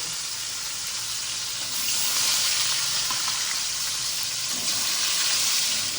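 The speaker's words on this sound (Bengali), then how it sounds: "মাছ ভাজা হচ্ছে" Fish frying in hot oil in a pan, producing a loud, continuous hissing sizzle that swells partway through and holds steady without any talk.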